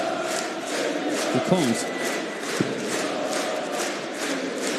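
A darts crowd at the German Darts Championship roars and chants in a sustained, moderately distant wash of noise, and a commentator speaks briefly over it.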